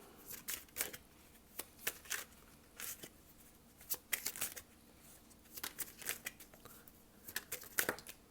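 Tarot cards being shuffled and drawn: soft papery riffles and crisp flicks in irregular bursts, close and fairly quiet, with brief pauses between.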